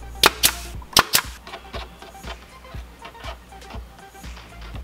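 Brad nailer driving nails into the underside of a storage shelf, four sharp loud pneumatic snaps in two quick pairs at close range, followed by quieter knocks and handling.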